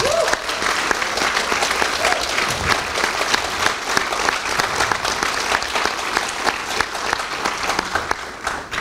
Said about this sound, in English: You all started clapping before I told you how it had turned out.